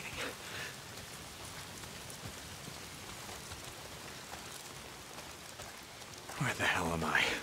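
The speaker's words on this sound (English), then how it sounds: "Damn rain." Steady rain falls in the post-apocalyptic video game Days Gone, a soft, even hiss of drops on surfaces, fairly faint and continuous, with a voice breaking in near the end.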